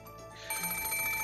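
In the game Umineko When They Cry, a phone's electronic ring starts up halfway through as a rapid warbling trill over sustained high tones, clear and unaccompanied by voices.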